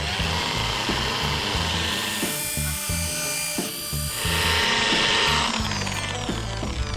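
Power polisher buffing the bodywork of an old van being converted to a camper, a loud buzzing whir with shifting pitch and brief dips as the pad moves across the roof, close and continuous.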